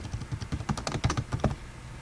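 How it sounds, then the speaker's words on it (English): Someone types a school's name on a computer keyboard, a quick rhythmic patter of about a dozen close, soft key clicks lasting under two seconds, with no talking. "and type the school's name."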